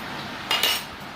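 Cutlery and dishes clatter in a kitchen as they are cleared into the washing-up, with two quick, bright metallic clinks close by, surrounded by quiet room noise.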